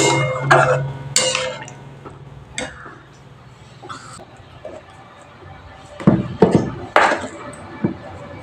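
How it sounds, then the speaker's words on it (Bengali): A spoon stirs a bata fish jhal curry in a pan just after water goes in, making scattered clattering scrapes and knocks with quiet gaps and a busier burst near the end. "এবার একটু আমি ভালো করে নেড়ে নিচ্ছি।"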